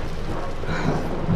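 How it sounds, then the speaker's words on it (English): Rumbling thunder with a rain-like wash in the horror video game Escape the Ayuwoki, a loud continuous low roll filling the brief moment. "Thunder, just thunder."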